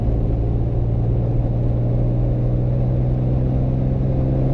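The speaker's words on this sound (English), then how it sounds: "It's a lot of fun to pass other cars with a 70-year-old flathead six." A 70-year-old Hudson Hornet's 308 flathead six, the big six, drones steadily while driving, a loud, even low rumble and whir of the engine with constant road noise and no pauses.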